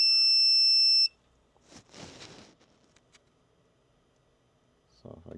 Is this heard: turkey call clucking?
no